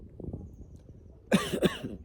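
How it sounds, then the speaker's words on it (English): Two quick coughs close together, loud and near, after a stretch of quiet low rumble. "I had to cough off screen there"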